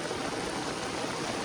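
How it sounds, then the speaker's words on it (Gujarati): Heavy floodwater after torrential rain in Dahod rushes steadily past, a dense, continuous broadband roar like a stream in spate, close and unbroken throughout. "પાણી જોઈ શકો છો સામેથી કેટલું બધું આવી રહ્યું છે"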